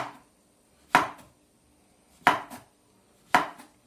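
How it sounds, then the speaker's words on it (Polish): Three crisp knife chops slicing mushrooms on a cutting board for pizza, spaced about a second apart, close up with quiet between strokes. "kroimy, kroimy pieczarki. Kroimy je sobie na takie opaski."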